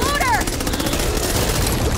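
SMG fire in the Back 4 Blood video game, a rapid stream of close, loud shots in quick succession with a voice briefly heard over the start.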